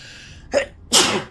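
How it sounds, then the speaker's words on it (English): A person sneezes twice in quick succession: a short, sharp first burst, then a louder, longer explosive sneeze right at the microphone, with no other sound around it. "I've got to sneeze."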